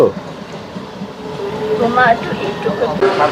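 A train arriving at a railway level crossing, a moderately loud rumble of rail wheels building and rising toward the end, with some background traffic noise.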